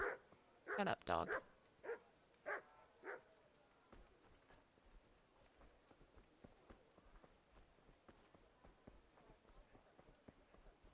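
A dog in a medieval kingdom video game lets out a run of loud barks at the start, about six in quick succession, then fades to quiet ambient game sound with soft footsteps.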